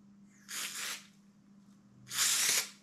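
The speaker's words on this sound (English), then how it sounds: "So we're going to give this a spraying over." Two bursts of high-heat aerosol contact adhesive spray hiss, the first about half a second long and the second longer and louder, with a low steady hum underneath.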